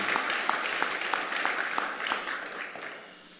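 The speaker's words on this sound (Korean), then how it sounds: "우리가 은혜 주실 우리 하나님께 우리도 박수로 감사 찬양합니다." A church congregation applauds during a Sunday morning worship service, a dense, even patter of many hands clapping together in a steady rhythm, fairly soft and distant, tapering slightly toward the end.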